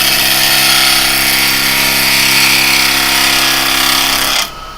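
A wood lathe spinning while a gouge cuts with its bevel rubbing, a loud continuous hissing, scraping cut with a steady motor hum underneath, ending abruptly near the close.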